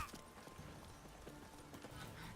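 Roach, the horse in The Witcher 3, clip-clops along in a steady rhythmic trot of hooves, with a faint snort and ambient game sounds in the background.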